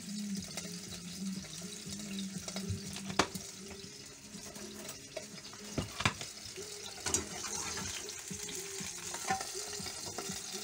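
A hamburger patty frying in a pan gives a steady, quiet sizzle, with faint scraping and soft clatter around it and no talking.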